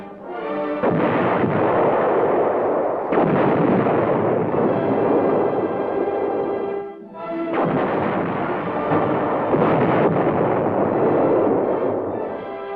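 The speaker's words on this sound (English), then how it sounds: "A 165mm cannon designed to fire at short ranges with extreme accuracy" Heavy blasts from an M60 Patton tank's 165mm cannon boom loudly and repeatedly, each deep roar rolling into the next with a short lull midway, like sustained artillery fire.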